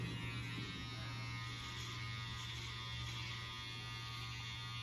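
An electric hair clipper fitted with a number 2 guard buzzes steadily while trimming hair for a high fade, a constant close motor hum with no speech over it.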